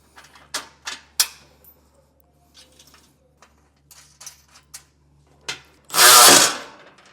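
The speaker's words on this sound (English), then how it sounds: "we can snug it down using a 9/16 socket" Nuts on a Stromberg Carlson trailer tray cargo carrier being snugged down with a 9/16 socket: a series of sharp close ratcheting clicks and knocks, spaced irregularly, then a brief loud burst of whirring near the end.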